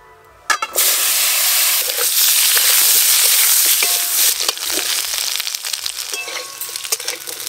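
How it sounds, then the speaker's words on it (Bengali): Potatoes tipped into the same hot oil used for frying fish, bursting into a sudden loud hiss that holds steady, then settling into a softer, uneven crackle with scattered clicks and scrapes. "মাছ ভাজা তো সব হয়ে গেল, ওই একই তেলে আলুগুলোও দিয়ে দেব।"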